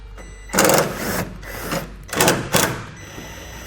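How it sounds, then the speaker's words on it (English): A power driver with a T15 bit buzzes in short whirring bursts as it backs out taillight fasteners on a 2018 GMC Sierra pickup, two main runs close by with brief pauses between. "I'm going to be using a T15 driver to take those out."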